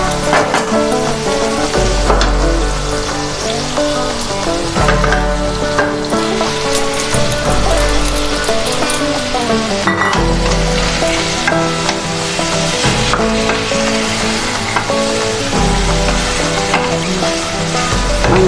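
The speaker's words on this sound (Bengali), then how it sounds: "এবার এতে আমি মাংসটা দিয়ে দেবো।" Pieces of chicken drop into a Bengali chicken curry masala that has been fried down in oil until the oil separates. The sizzle is loud, steady and close, with stirring scrapes throughout and no talk.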